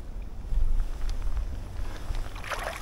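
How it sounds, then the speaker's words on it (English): A kayak paddles on the River Hull in breezy conditions, with low rumbling wind noise against the microphone and faint water splashes from paddle strokes, including a brighter splash near the end. "Having a long paddle today,"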